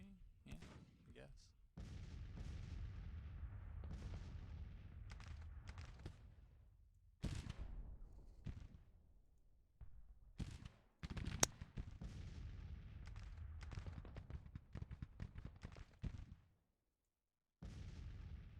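Gunfire from troops in a Civil War era strategy game, with dense volleys and scattered individual shots sounding across a busy battlefield soundscape, a few brief pauses between bursts and one loud crack near the middle.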